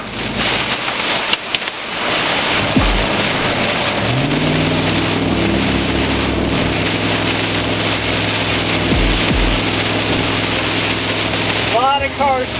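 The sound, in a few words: heavy hail and wind during a storm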